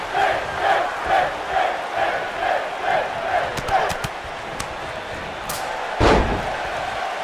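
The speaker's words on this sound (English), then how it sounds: "Exploder suplex. Up and over with a suplex." In the WWE 2K19 video game, an exploder suplex lands with a heavy thud amid a rhythmic, chanting arena crowd. Sharp impact clicks come just before it, and a commentator's voice is faintly present.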